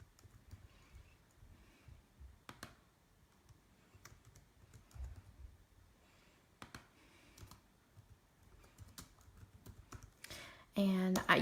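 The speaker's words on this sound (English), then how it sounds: "And you can hear me typing." Typing on a computer keyboard: irregular clusters of light key clicks with pauses between bursts, close and fairly quiet, ending in a louder clatter at the very end.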